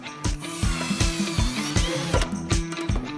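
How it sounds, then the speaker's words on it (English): A power drill bores screw holes through a wooden tabletop for a foldable table, its loud motor whine pulsing in repeated bursts as the bit bites into the wood. "the drill bits go through the tabletop, so we'll have small holes on top of the table"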